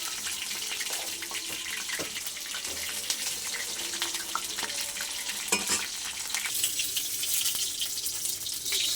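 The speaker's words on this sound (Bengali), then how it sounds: "এটা ভাজতে বেশি সময় লাগবে না, যেহেতু শাপলা তো।" Water lily (shapla) stems skewered and coated in gram flour batter fry steadily in hot oil, giving a continuous close crackling sizzle with occasional louder pops and no talk.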